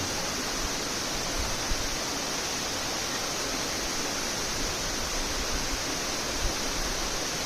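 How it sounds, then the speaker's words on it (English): Powerscourt Waterfall in Ireland pours in a broad, steady roar of falling water, a continuous hiss with no pauses or other sounds. "Powers Court Waterfall, Ireland."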